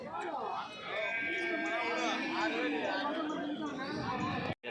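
Male goats bleating amid a busy goat market, their cries rising over constant crowd chatter and nearby voices throughout.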